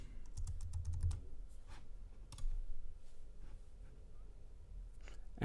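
An admin password goes in on a computer keyboard as a quick, quiet run of close key clicks, uneven in rhythm, with a small pause partway through.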